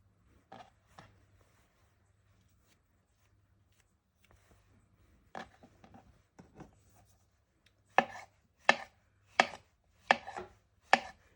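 A knife slices mushrooms on a cutting board: a few sparse, soft cuts at first, then five crisp, evenly spaced chops close up, with no talking.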